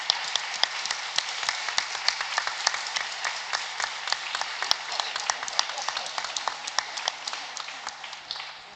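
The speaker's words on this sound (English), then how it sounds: "a big applause for the Director General." Audience at a museum symposium applauds the Director General, a dense, steady burst of many hands clapping close by that carries on for several seconds before slowly thinning out.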